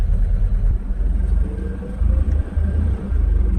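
Mercedes W123 driven while shifting gears: a continuous low engine rumble that dips and surges at each shift, close and fairly loud, with no talk.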